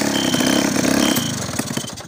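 An old motorcycle with a leaking exhaust, never touched by a mechanic, runs at a loud, rough, clattering idle with a steady chugging pulse throughout.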